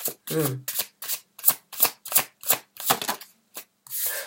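Tarot cards are shuffled by hand in quick repeated riffling bursts, close and crisp, about a dozen strokes in a steady rhythm.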